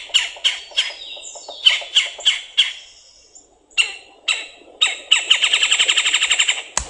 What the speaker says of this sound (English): that rattle sounds almost like a kingfisher